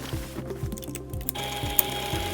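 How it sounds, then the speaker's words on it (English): Home sewing machine running a zigzag stitch back and forth over the frayed edges of a fabric tear, giving a steady close mechanical whirr with rapid regular needle thumps and a small click near the end. "Using the zigzag on my machine, that'll keep my fraying under control."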